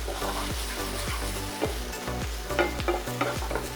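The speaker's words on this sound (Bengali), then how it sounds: "ময়দা দিয়ে ভালো করে এটাকে মিশিয়ে দিন, আর জাস্ট 1 মিনিট ময়দাটাকে এর সাথে আপনি কুক করুন" Flour being stirred into butter in a hot pan for a homemade white pasta sauce, with steady sizzling under rhythmic scraping strokes of a spoon, close and continuous, no talking.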